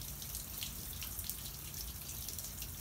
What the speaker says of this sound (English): The cylinder is filling with water as we speak.